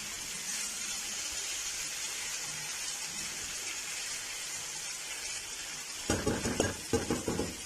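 Diced tomato, onion and potato sizzle steadily in a frying pan, a soft continuous hiss, then a spoon scrapes and stirs in several quick, louder strokes near the end.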